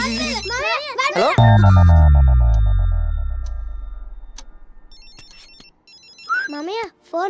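A phone rings for an incoming call from an uncle, the electronic ringtone sounding in bursts alongside a voice and a loud resonant clang that slowly decays, with a short tone pattern returning near the end.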